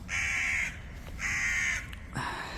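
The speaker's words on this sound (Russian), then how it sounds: "Вот ворона-то там." A crow gives three loud, harsh caws in a slow, evenly spaced sequence, close and clear against a quiet background.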